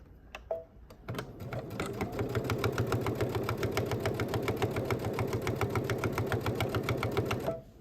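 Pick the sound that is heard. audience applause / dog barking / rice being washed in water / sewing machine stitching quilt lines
sewing machine stitching quilt lines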